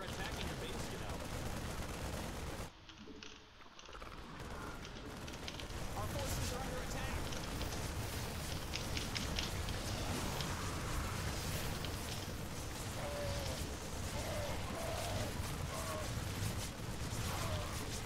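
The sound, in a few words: gunfire of units attacking a base in StarCraft video game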